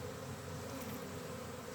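A honeybee swarm in Ireland in late August, buzzing as a dense, continuous hum of many bees close by, steady and unbroken with no voices.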